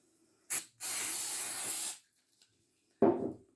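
Spray adhesive hisses from a can onto an old furniture base being reupholstered, first a short burst, then a long steady spray of about a second and a half, and later another brief burst, all close up with no talking.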